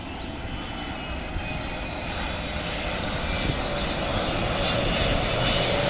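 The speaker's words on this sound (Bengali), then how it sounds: "আমরা বিমানের শব্দ শুনতে পাচ্ছি।" A Qatar Airways Boeing 777 approaching to land at Dhaka Airport on a foggy morning gives a steady, loud jet roar that holds and slowly swells throughout, with no break or speech.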